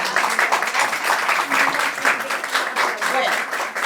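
An audience at a report launch on political violence against women applauds in a steady, moderately loud burst of clapping, with voices mixed in underneath.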